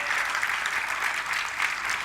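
Soft, steady clapping from a discourse audience, a faint continuous patter of many hands heard from a little distance, with slight swells but no talking.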